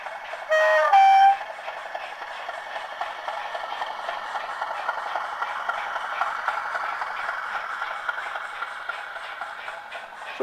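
Model railway Class 37 diesel locomotive sound played outdoors, a short horn blast near the start followed by a steady engine drone with light rhythmic rattle, fairly faint and alone.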